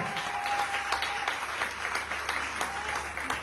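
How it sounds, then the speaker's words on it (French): A church congregation claps together during a morning service, brisk and continuous for a few seconds, with faint voices mixed in. "Acclame Jésus ce matin"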